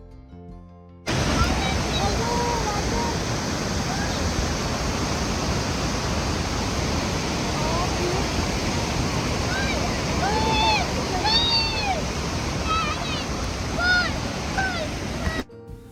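Niagara Falls roars as a steady, dense wash of rushing, falling water that starts abruptly and holds loud and constant throughout, with faint bird chirps above it.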